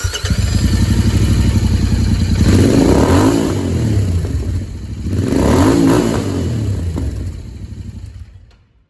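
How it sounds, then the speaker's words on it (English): A motorcycle engine revs hard twice, rising and falling in loud surges, then settles to a rumbling idle that fades at the end. "small little exhaust sound."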